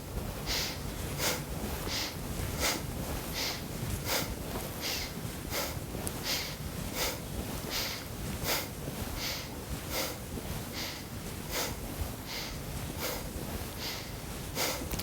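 Rhythmic yoga breathing during a seated spinal twist, with strong, regular nasal inhales and exhales about every half second, close and forceful, with no talking.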